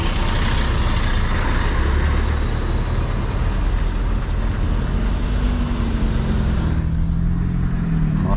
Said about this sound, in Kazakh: Соның кесірінен қаншама кептеліс болып жатыр.